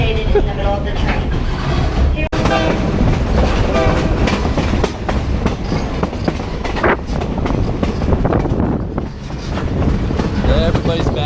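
The Smoky Mountain Railroad train rolls along with a loud, continuous rumble and steady clickety-clack of the wheels, wind buffeting the microphone, while people chat nearby.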